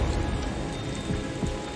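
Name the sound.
rain falling on a gloomy day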